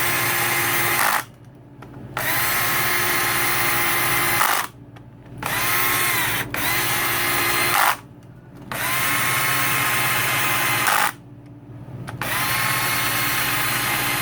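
A power drill drives clutch spring bolts back into a Yamaha YZ250 two-stroke motorcycle clutch in four loud, sustained whirring bursts separated by short pauses, each run steady with a slight pitch change.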